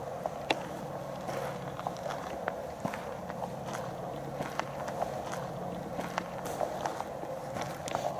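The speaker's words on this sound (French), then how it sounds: "J'ai entendu des bruits de pas ici." Footsteps crunch at night in a cemetery, a steady run of faint irregular scuffs and ticks on the ground, fairly distant and quiet over a low background hiss.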